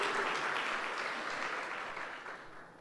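A church congregation claps together, a sustained wash of applause that swells early and then fades gradually toward the end, heard at moderate distance with no voice over it.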